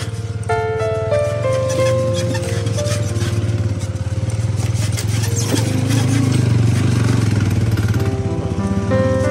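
A cruiser motorcycle engine drones steadily up close while riding a rocky hill road, its throbbing note shifting pitch as the throttle changes, with faint rattles and occasional muffled voices in the background.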